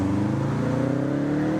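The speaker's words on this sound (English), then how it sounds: "Distinct sound, those turbocharged flat engines." A loud, close turbocharged flat-four Subaru WRX rally car engine drones with a throbbing, uneven burble as it holds revs at a rally event.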